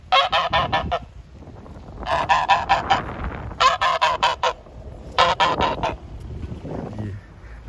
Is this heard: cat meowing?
no